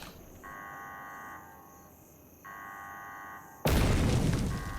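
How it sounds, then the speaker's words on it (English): Mortar fire in the video game Secret World Legends, a sudden loud, broad blast that follows a quieter stretch of steady tonal in-game hum and beeping. "Okay, those are mortars."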